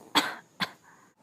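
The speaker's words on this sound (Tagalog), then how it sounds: "Simpleng ubo lang ito." Two sharp coughs from an older woman with a persistent, lingering cough, close and clear, the second slightly weaker, with a short rasping tail after each.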